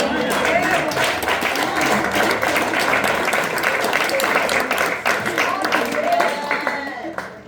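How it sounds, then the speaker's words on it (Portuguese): A congregation applauds in church during a sermon, with loud sustained clapping and cheering voices mixed in, fading slightly toward the end. "Você pode aplaudir ao Senhor?"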